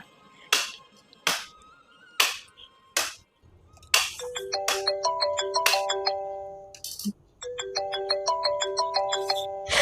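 Phone ringing on an outgoing call, starting with a few separate electronic chimes and then a repeating melodic ringtone pattern that plays twice, with a brief pause between.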